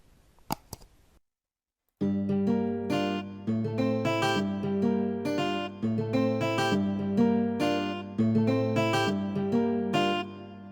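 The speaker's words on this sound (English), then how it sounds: "I started off with this guitar from a stock plugin called Flex on FL here" A dry 12-string guitar from the stock Flex plugin in FL Studio, with no effects, plays a steady rhythmic pattern of bright repeated chords after a couple of brief clicks and a short pause.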